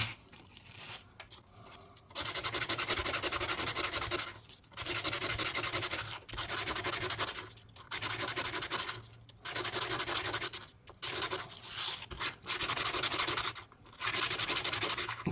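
Sandpaper rubs against a ring made from a 1 Deutsche Mark coin in a steady, loud rasping, applied in repeated strokes of a second or two separated by short pauses, close up.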